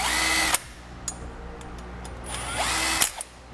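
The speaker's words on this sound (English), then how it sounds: "We'll slide our bracket in place and tighten the hardware back down." A power tool tightens bolts on a gooseneck hitch bracket on a 2009 GMC Sierra, whirring in two short bursts with a faint ratcheting tick and quiet clicks in the pause between them.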